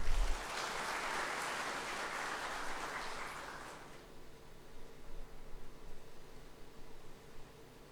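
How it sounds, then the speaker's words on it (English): Audience applause at the Mekong Forum 2025 swells at once and holds for about four seconds, then drops off into quiet room noise. "Please give him a big round of applause."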